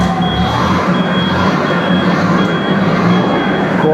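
Reverse alarm on a Komatsu FG25T forklift with a traction fault, a loud steady beeping tone with its engine running as a rumbling bed, heard close and continuous.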